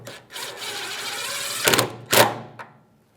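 A power tool whirrs as a mounting nut is run down and snugged on a fuel tank strap of a 2008-2017 Mitsubishi Lancer 2.4L. A steady drone gives way to two louder bursts and a brief final tap before silence.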